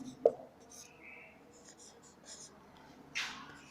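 Handwriting during a Class 12 agricultural chemistry lesson on soil organic matter, probably chalk or pen on a board. Faint scratchy strokes come and go under a teacher's nearby speech, with a couple of sharper taps.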